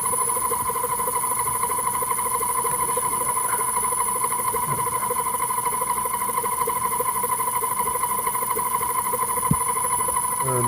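An upgraded motor on a Clarke CMD10 mini mill runs steadily, a constant hum with a high whine, holding even from start to end with no talking and a brief tick near the end.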